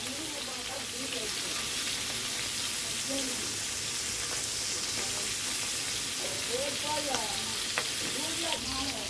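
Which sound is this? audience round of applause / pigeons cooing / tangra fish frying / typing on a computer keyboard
tangra fish frying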